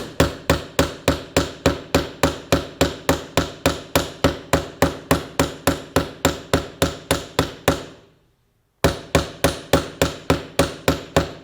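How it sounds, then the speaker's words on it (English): Hand hammer striking metal in traditional Bronze Age-style metal craft work, a steady run of loud, evenly spaced ringing blows, close by, with a brief pause before the strikes resume. "See my hammer, that it's free in my hand."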